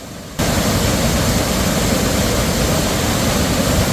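A waterfall in a Seoraksan mountain valley pours with a loud, unbroken roar of rushing water, close by and constant after a short softer lead-in, with nothing else heard over it.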